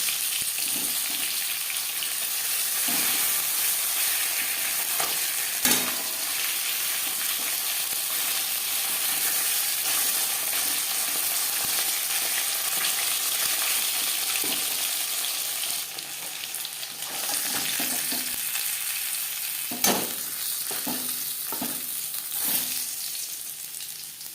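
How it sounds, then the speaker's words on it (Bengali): Bata fish frying in hot oil in a pan, a steady close sizzle throughout with occasional sharp clicks and clatters as pieces are turned over, no voices. "একটা সাইড ভাজা হয়ে গেলে অপর সাইডটা উল্টে দেবে"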